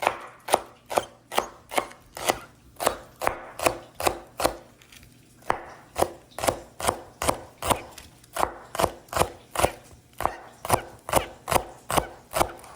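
A knife thinly chops cleaned green onions for garnish, a quick, even run of crisp taps on a cutting board. Roughly two strokes per second, with one short pause midway.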